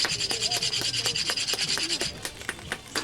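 A rasp shaping and trimming the edge of a piece of wood, with quick repeated scraping strokes in a steady back-and-forth rhythm, close and clear with no talking.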